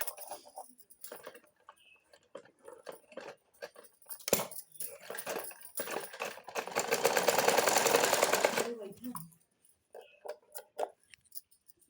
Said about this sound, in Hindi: इस तरफ भी हमें सिलाई लगा लेनी है।